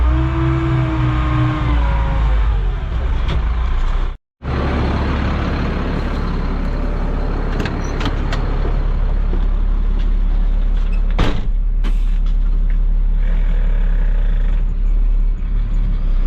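After a loader is parked on the trailer, a truck pulls away from a grading job site, its engine rumbling loud and close throughout, with a brief dropout early on and some clunks and rattles as it drives off.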